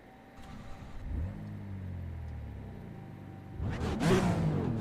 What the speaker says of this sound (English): I do absolutely love the sound of the BMW.